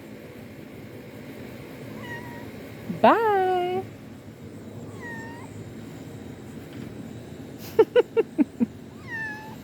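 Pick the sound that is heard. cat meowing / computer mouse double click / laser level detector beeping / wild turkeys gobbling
cat meowing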